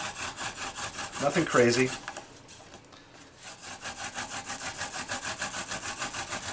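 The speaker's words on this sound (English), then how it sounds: "That sliding noise means that it's glazing over and it's spinning instead of digging into the wood" Wooden spindle of a friction fire hand drill spun against a wooden board, giving a rhythmic rubbing, sawing-like scrape close by that pauses while a voice speaks briefly, then continues.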